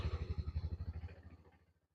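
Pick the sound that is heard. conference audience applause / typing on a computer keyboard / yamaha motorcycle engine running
yamaha motorcycle engine running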